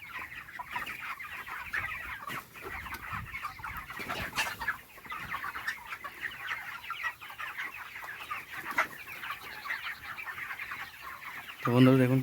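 Thirty-three-day-old chickens on a poultry farm in Jalpaiguri, India, a constant busy chorus of clucking and chirping from many birds, with a louder burst near the end.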